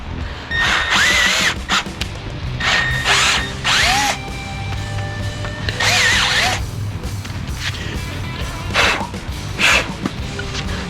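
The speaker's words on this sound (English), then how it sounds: "so I'm going to drill it out just a little bit." A power drill bores out a cylinder head locator pin while heads are fitted to a 5.3 LS engine swapped into a Dakota, in loud close bursts of whining revs that start, stop and bog, with clanks between.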